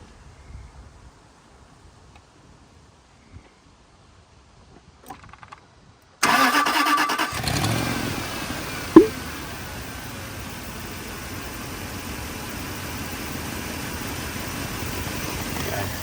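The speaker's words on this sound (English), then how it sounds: "I'm gonna start her up and let you listen" A Land Rover engine, long dead for five months, cranks and catches abruptly after a quiet stretch, then settles into a loud, steady idle with a brief sharp knock partway through.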